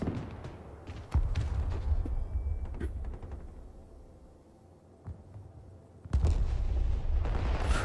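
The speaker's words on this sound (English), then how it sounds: "Holy hell, that was a nice explosion." Explosions and artillery fire in the modern wargame Broken Arrow, with a series of heavy booms and sharp blasts, loud and close, rumbling between hits before a final big detonation.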